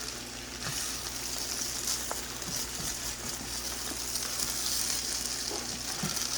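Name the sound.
egg being stir-fried in a pan for fried rice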